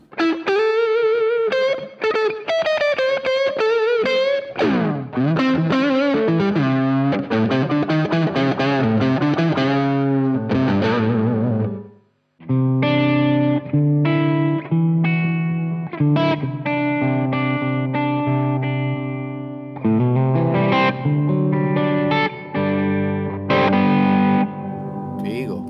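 An electric guitar played through a Two Notes Torpedo Captor X with reverb effects, sounding like distorted, sustained chords and melodic lines. The playing is loud and continuous with only a brief break midway, and no one talks over it.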